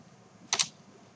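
A quick double burst of computer keyboard keystrokes entering an AutoCAD Civil 3D command, close and soft against a quiet room.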